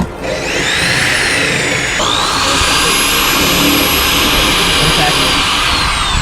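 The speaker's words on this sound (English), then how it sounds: "I'm gonna drill out these little foam things" A loud power drill drilling out foam plugs on a 1957 Volkswagen Roadster whines steadily up close, its high motor pitch shifting once and then holding for several seconds.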